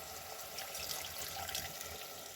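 A brief, steady stream of water pours close by into a frying pan of stewing meat and sauerkraut, a soft continuous splashing with no talking.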